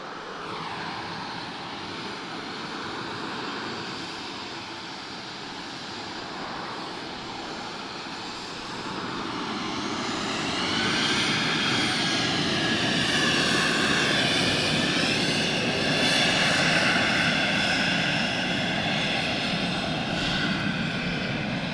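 An Air Europa Boeing 737-800 takes off from Lisbon airport, its jet engines a steady, broad roar that swells and grows louder partway through and holds at full power, heard from a distance with no talk over it.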